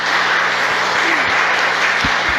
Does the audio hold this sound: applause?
yes